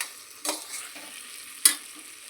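Vegetables being stirred in a hot pan while frying for masoor pulao, with two brief scraping strokes over a soft, steady sizzle, close and fairly quiet.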